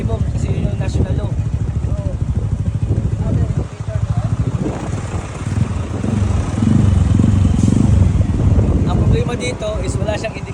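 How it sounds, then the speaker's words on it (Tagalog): A motorcycle fitted with an aftermarket muffler exhaust runs and revs in a steady, loud, close drone, with wind noise and voices talking over it. "Hindi naman ganun kalakas yung tambutso niya."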